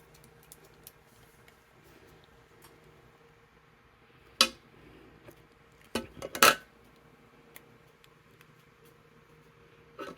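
A handheld hole punch cuts through a paper strap pattern piece, giving a sharp snap and then a quick cluster of crisp clicks over a quiet background with faint scattered ticks.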